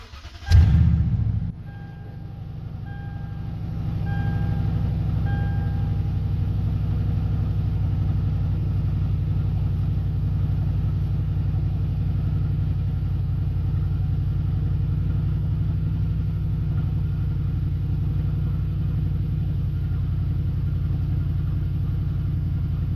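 A 2010 Toyota Tundra in limp mode, with a secondary air valve fault, cranks and catches with a sharp burst, then settles into a steady, low, rumbling idle that carries on evenly for about twenty seconds.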